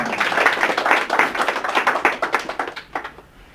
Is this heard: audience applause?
yes